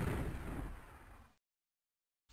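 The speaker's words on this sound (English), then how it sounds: "Locus found him and managed to shoot 2 rockets into BPS." A loud burst from rocket explosions in the video game QuakeWorld fades over about a second and then cuts to silence.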